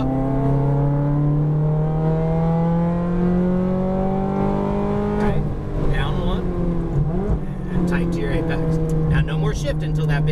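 A Ferrari F430 engine on a track, its note rising steadily under throttle in a loud, continuous drone with shifts and brief dips near the middle, while a driving instructor talks over it throughout.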